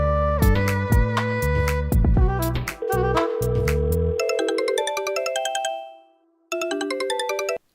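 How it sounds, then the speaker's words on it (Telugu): A phone ringtone plays loudly: a melodic tune followed by repeated electronic chimes, a short pause, then the ringing resumes. "సరే సరే, చెల్సేకి ఒకసారి ఫోన్ చేయి."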